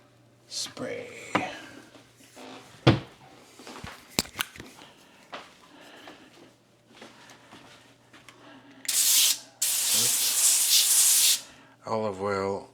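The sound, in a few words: olive oil cooking spray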